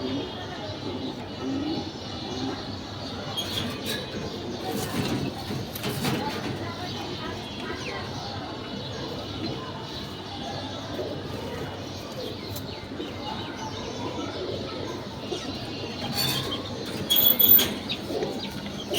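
A newly acquired pair of pigeons coo softly and flap their wings now and then over steady background noise, with a brief louder burst of fluttering near the end.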